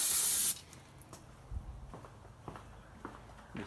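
A half-second burst of brake parts cleaner sprayed onto the brakes of a 2007 Honda Odyssey, a loud close hiss that stops abruptly, followed by faint shuffling footsteps and handling noises.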